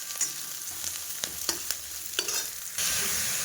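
Beetroot and cabbage frying in a wok, with a steady sizzle and several sharp scraping clicks of a spatula stirring, close and fairly quiet, the hiss swelling louder near the end.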